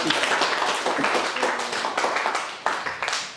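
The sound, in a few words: classroom applause for a group of students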